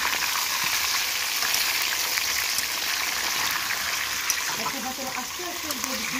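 Beef roast frying in a pan outdoors, a steady loud sizzle running throughout, with faint stirring scrapes and a voice coming in near the end.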